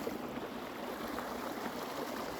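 Snow-melt stream running through a property, a steady rushing and gurgling of flowing water, continuous and moderately loud with no voices.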